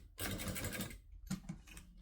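A sewing machine stitching fabric near a metal-ended piece, with a fast, even burst of rhythmic clatter followed by a few short, slower stitches, close and clear.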